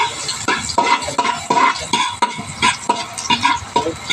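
Garlic fries in hot oil, a steady close sizzle broken by repeated scrapes and clinks as a utensil stirs the pan at a regular rhythm.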